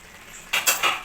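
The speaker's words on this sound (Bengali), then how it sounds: "এটা এখন আমি ঢাকাটা উঠিয়ে নেব।" A lid clatters as it is lifted off a pot of cooking boroli fish curry, with two or three sharp metallic clinks close by after a brief quiet moment.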